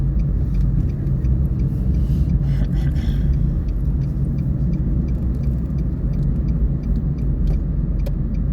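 A car interior during a driving lesson carries a steady low engine and road rumble, continuous and close, with faint light rattles and jingles on top and no talk.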